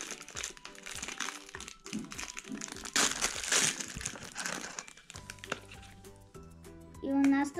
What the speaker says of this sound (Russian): Открываем следующий пакетик.